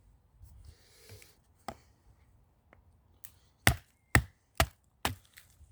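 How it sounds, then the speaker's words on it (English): A knife blade is battened through silver birch with a few sharp, distinct cracks and thuds spaced close together, after a quieter stretch of faint rustling. "Let's batten some silver birch down here."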